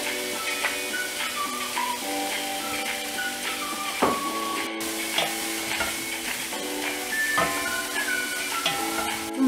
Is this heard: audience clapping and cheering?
no